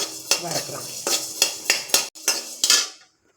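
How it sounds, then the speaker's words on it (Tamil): Coriander seeds dry roasted in a pan without oil for a lunch-box puli thokku, heard as repeated close, bright scraping and clinking strokes of a utensil against the pan, about eight in a steady rhythm, with no talk. "தனியாவையும் போட்டு நல்லா சும்மா ஒரு வாசனை வரலாம் வறுக்கலாம். எண்ணெய் விடாமல் தான் வறுக்கலாம்."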